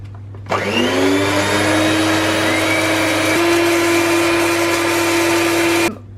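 An electric mixer runs on high through red velvet cake batter, a steady loud whir with a constant tone that starts abruptly, holds for about five seconds, then cuts off.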